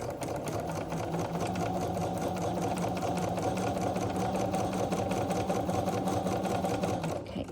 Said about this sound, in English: It's the Handy Quilter Moxie with an 8-foot loft frame.